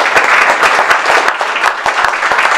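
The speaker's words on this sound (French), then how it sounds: "Parfait, ça mérite ces applaudissements." An audience at a French talk on digital inclusion gives a short burst of dense, loud applause with sharp individual claps throughout.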